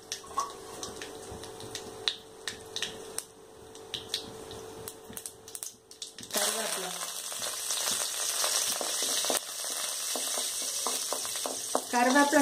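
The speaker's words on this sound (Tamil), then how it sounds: "எண்ணெய் சூடாயிருச்சு, கொஞ்சம் கடுகு போட்டுக்கோங்க." Mustard seeds dropped into hot ghee and oil burst into a loud, dense sizzle with crackling pops, after a quieter stretch of faint clicks and stirring.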